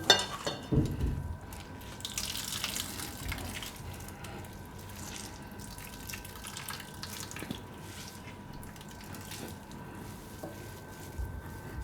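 Soft wet squishing and trickling water as salted momo stuffing is squeezed by hand, with faint drips over a quiet background.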